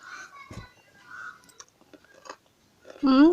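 Someone bites into and chews crunchy lacto-fermented carrots up close, making a few sharp, brief crunches between soft murmured vocal sounds.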